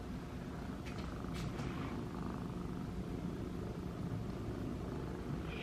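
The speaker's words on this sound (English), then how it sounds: "he won't stop purring" A cat purring close by in a steady low rumble that runs unbroken throughout, with no talking.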